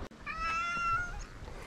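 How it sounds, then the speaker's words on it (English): A cat gives one drawn-out, close meow over a faint, quiet background. "it is known for its furry residents, namely cats"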